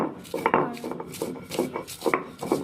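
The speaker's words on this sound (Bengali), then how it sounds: "তো এবার দিদি হচ্ছে লঙ্কাটাকে বাটবে, একসাথে বাটেনি।" Green chillies for mango pickle are ground or crushed by hand, making a series of irregular scraping and knocking strokes, close and fairly soft, with no talk.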